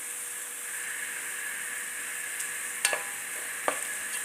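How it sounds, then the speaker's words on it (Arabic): Onion fries in oil until it turns deep reddish-brown and caramelized, giving a soft, even hiss of sizzling, broken by a few sharp scrapes and clicks of stirring. "هقلب معايا البصله دي كويس لحد ما تحمر معايا"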